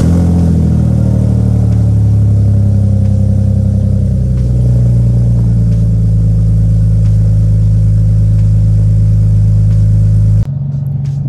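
A tuned BMW E46 engine drones loudly and steadily with a deep rumble and rising pitch, then cuts off abruptly near the end.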